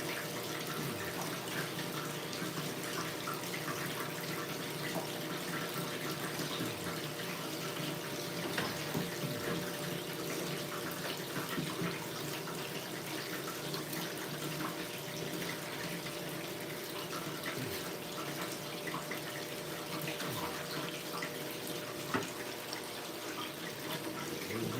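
Water runs steadily during gold prospecting, a continuous even rush and splash like a tap or pump flow, moderately loud and unbroken throughout, with no talking.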